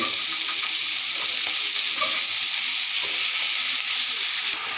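Onions and three potatoes with a little turmeric frying in a pan, a steady close sizzle and hiss of hot oil throughout with faint stirring clicks.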